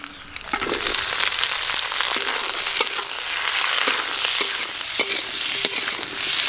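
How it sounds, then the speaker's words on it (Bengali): Garlic, onion petals, capsicum and tomato fry lightly in a pan with a steady close sizzle, broken by repeated sharp scrapes and clinks of a stirring spoon. "সব কিছু একটু হালকা করে ভেজে নিলেই হবে, খুব বেশি লাল লাল করে ভাজার দরকার নেই।"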